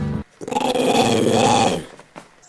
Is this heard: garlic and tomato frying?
no